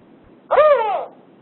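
A single low, hoarse hoot from a male northern spotted owl, close and clear against a quiet background, lasting about half a second.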